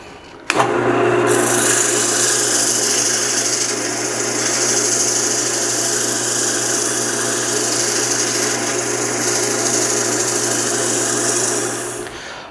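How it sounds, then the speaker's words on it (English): A power sander starts up abruptly and runs for several seconds, a steady whirring hum with rasping friction against a wooden bow, then winds down. "I think it's time to get to sanding"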